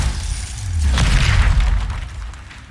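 The Glacius ice spell goes off in Hogwarts Legacy with a heavy, swelling boom and a brittle, shattering edge that builds to a peak and then fades over a couple of seconds.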